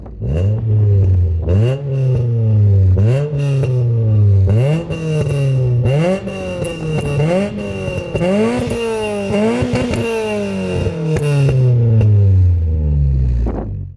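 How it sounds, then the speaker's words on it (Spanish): A Ford Fiesta ST engine revs hard again and again through rising gear pulls, loud and close, with brief dips between each climb and no talking. "me queda enseñaros cómo suena el coche"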